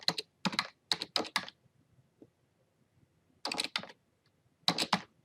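Numbers keyed in on a computer keyboard in Excel, arriving as quick, close bursts of crisp key clicks separated by short quiet pauses.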